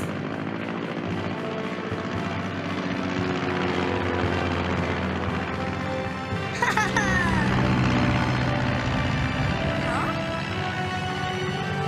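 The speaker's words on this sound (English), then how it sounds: "Let's see if these planes can really fly." A droning propeller engine hums continuously as small toy planes fly in a children's cartoon, with a brief flurry of other sounds partway through.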